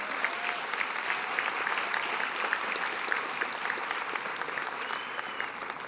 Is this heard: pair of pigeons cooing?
no